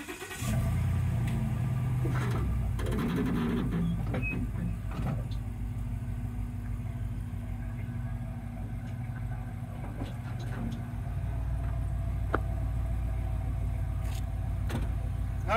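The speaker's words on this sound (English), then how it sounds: "So I'll go ahead and pull the trailer out." A pickup truck towing a fifth-wheel trailer pulls out, its engine rumbling steadily and loudly up close with a brief rev near the start.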